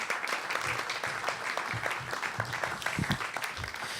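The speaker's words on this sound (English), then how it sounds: "Ladies and gentlemen, give Andy a big round of applause." A crowd gives a volunteer a big round of applause, a continuous, lively clapping that stays loud and even throughout, with a few heavier thumps mixed in.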